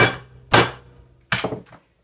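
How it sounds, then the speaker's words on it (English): A sledgehammer strikes a crimper tool during a 1991 Fleetwood Southwind renovation: three sharp metallic whacks, the first two spaced apart and a quicker double hit near the end, close and loud. "give it a good whack with the sledge"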